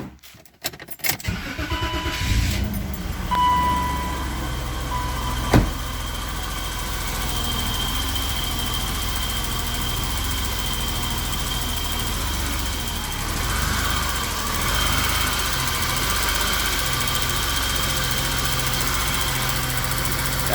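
A BMW E32 735iL cranks and fires up with its battery freshly charged, then settles into a steady, even idle that runs on alone for many seconds, close and continuous.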